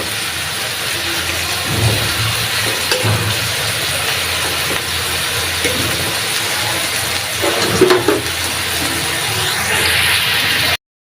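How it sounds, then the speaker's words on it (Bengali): Onions frying in a pan for a prawn and taro-stolon curry, giving a steady, loud, continuous sizzling hiss with occasional soft clatters and no talking. "আমার পেঁয়াজটা ভাজা হয়ে গেছে।"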